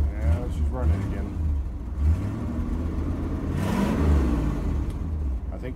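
A 1979 Chevrolet C20 truck's big 454 V8 idling roughly and revving close by, the deep rumble swelling and dipping steadily throughout while it runs short of fuel.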